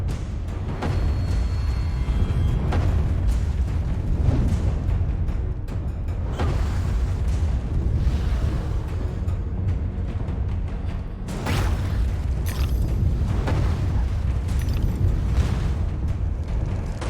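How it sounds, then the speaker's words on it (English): Deep booming cannon blasts go off repeatedly at irregular intervals over a dense, rumbling soundscape in the game Alice: Madness Returns, with no voices present. "hear cannons, but I don't see any."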